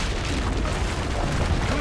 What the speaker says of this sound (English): Use the cannons above the ramparts.